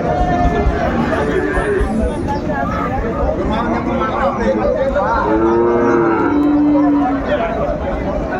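Cattle low repeatedly, with long drawn moos rising over a steady crowd murmur and chatter of a busy livestock market in Dinajpur where Sahiwal bulls and calves are traded.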